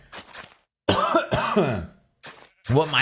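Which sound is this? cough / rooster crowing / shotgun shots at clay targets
cough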